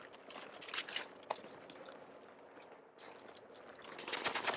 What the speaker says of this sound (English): I'm gonna use sticky bomb switch to my submachine gun, try and take this guy out.